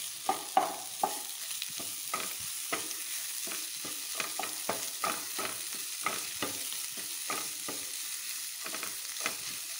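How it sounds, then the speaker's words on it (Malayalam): Cut potato and carrot fry with browned onions in a pan for a masala dosa filling: a soft steady sizzle with a regular run of stirring scrapes, close and without talk. "കിഴങ്ങും ക്യാരറ്റും മുറിച്ച് വെച്ചു. ഇനി ഇത് വറുത്ത സബോളയിലേക്ക് ഇട്ട് വറുക്കുന്നു."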